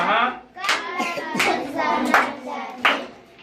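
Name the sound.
children clapping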